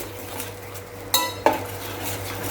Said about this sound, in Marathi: आता आपल्याला हे तेलावरती छान परतून घ्यायचं आहे